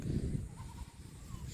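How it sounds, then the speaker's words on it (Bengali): Goats bleat near a rural railway line during the rainy season, short wavering cries heard at a moderate distance over a dense bed of outdoor background noise. "গরু ছাগল খাবারের জন্য এখানেই, এই রেল লাইনেই নিয়ে আসে।"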